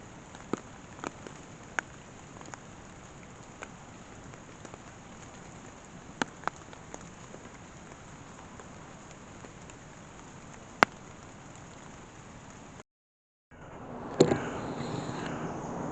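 Steady rain falls through woods at night around a camp tent, a soft continuous patter with scattered sharper drips, briefly cutting out before resuming slightly louder.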